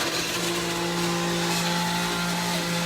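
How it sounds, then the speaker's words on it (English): A countertop blender runs steadily at high speed, blending fruit and vegetables for a summer treat, with a loud, constant whirring motor drone throughout and no talking. "You see the blender?"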